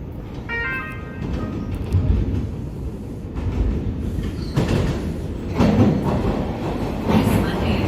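A Toronto TTC Line 1 subway train rumbles steadily and loudly throughout, with clattering wheels, a brief rising tone early on and a few sharper metallic bursts.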